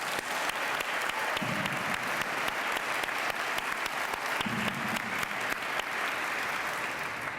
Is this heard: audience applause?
yes